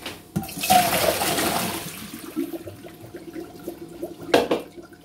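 Water pours and drains out of a pot of canned potatoes in a home kitchen, a rushing splash at the start easing into a trickle, with a second short gush near the end.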